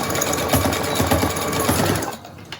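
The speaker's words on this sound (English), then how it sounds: "we're gonna go ahead and sew the other side" A sewing machine runs steadily while stitching the side of a fabric face mask with a filter pocket, its rapid mechanical needle chatter loud and close before it stops abruptly near the end.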